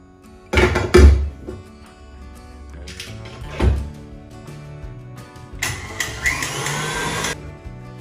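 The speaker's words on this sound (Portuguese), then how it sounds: "a gente volta a massa para a batedeira por 15 segundos" An electric stand mixer beats red velvet cake batter in short bursts of motor whir mixed with a few dull thunks. The last run is the longest and loudest whir.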